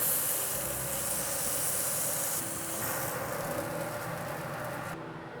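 Steak sizzling in a hot pan, a loud, steady, close hiss that runs unbroken and eases slightly near the end.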